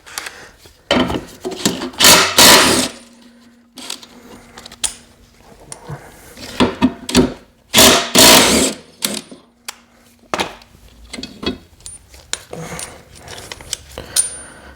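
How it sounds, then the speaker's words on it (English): A power tool removes the two outer 14mm blade bolts on a Honda walk-behind mower, giving loud repeated whirring bursts mixed with metallic knocks and scraping, close and uneven, with no voice. "Next, we're going to remove the two outer 14mm bolts that hold our two blade system on."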